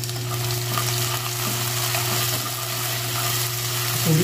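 Onion fries in a pan with a loud, steady sizzle and crackle that holds evenly throughout, alone and without talk.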